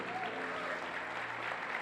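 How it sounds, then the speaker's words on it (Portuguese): Church congregation applauds during a service, a soft, steady patter of many hands heard at a distance over a low sustained musical drone. "pode aplaudir o Senhor Jesus"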